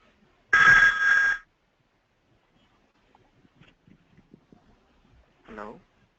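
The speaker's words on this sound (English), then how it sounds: "I'm taking a call." A telephone rings once in a single loud, buzzy, bell-like burst of about a second. Faint scattered sounds follow, then a brief muffled noise.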